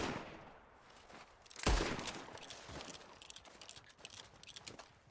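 Gunfire in Red Dead Redemption 2 during a train robbery: one loud, close shot stands out, followed by scattered quieter shots and crackling bursts at a distance.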